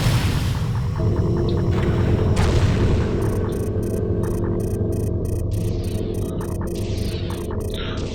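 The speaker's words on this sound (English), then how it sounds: "Let's take a look at those cannons." Cannons firing in the space combat game FreeSpace 2: a steady, loud, booming rumble with repeated pulsing bursts and electronic zaps over it, no talk.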